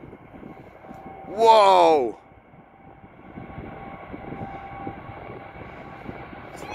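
Emirates Airbus A380-861 taking off, its broad engine rumble steady in the background and building again after a brief lull, while a person nearby lets out a loud exclamation.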